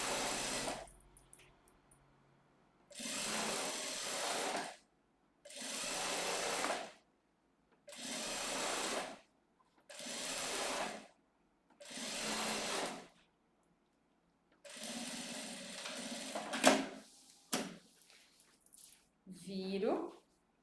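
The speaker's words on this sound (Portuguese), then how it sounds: "E agora eu vou costurar bem rente" A sewing machine stitches close along zipper teeth in bursts of steady whirring, about seven runs of a couple of seconds each separated by short pauses, with faint handling noises in between.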